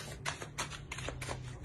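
Tarot cards are shuffled for a reading: soft, quiet riffling in four even bursts, close to the microphone, over a low steady hum.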